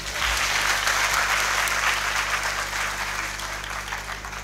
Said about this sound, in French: Vous n'avez pas attendu qu'on vous demande de l'applaudir.